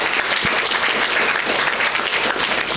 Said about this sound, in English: You have to give him a huge round of applause.